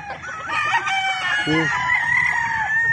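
Raptor breed pullet chicken clucking and crowing nearby in short rising calls over a few seconds, with people talking faintly in the background.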